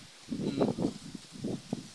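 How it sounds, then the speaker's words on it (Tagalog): Strong wind gusts across a rice field of young tillering rice plants, making uneven rustling, buffeting bursts that rise and fall over a couple of seconds, fairly soft and without voices. "ganyan kalakas yung hangin. Maririnig nyo naman."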